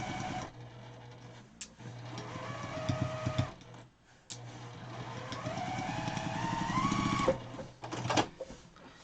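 Sewing machine running in long steady bursts while stitching quarter-inch seams in fabric, with a brief pause partway, a whirring motor hum with rising pitch as it speeds up, close and clear with no talk.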